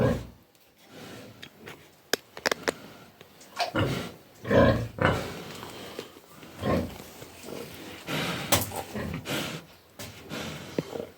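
A pregnant sow grunts and snorts close by in a pen, irregular loud grunts and rustling with occasional louder bursts, no talking.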